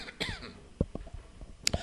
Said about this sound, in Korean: 제가 기침한다고 여러분들 걱정하지 마세요